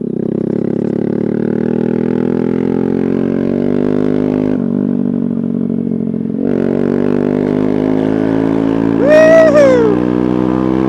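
A Honda Grom motorcycle with an MNNTHBX aftermarket exhaust idles and revs loudly up close, its rumbling engine note rising gradually with two short dips, and a sharp whooping voice cuts in near the end.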